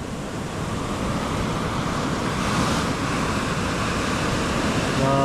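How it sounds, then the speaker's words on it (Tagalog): Strong sea waves pound the shore in a steady, loud, continuous roar of surf with wind, close by and without any voices. "Ang lakas ng alon."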